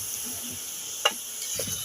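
Lentils added to fried spices in a pan for Bengali lau dal: a soft, steady sizzle hisses throughout, broken by one sharp clink and a couple of low stirring thuds.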